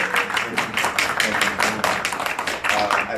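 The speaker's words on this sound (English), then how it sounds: "please give a round of applause to both of our candidates" An audience at a Seattle mayoral debate claps for both candidates, a dense burst of applause with sharp individual claps that stays loud and steady for about three seconds.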